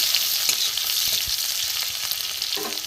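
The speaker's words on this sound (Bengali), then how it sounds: "এখানে রসুন কেটে দিয়ে দেবো, রসুনটা একটু ভেজে নেব।" Chopped garlic frying in a small amount of oil, giving a continuous dense sizzle close by, with a few soft scrapes and clicks of stirring scattered through.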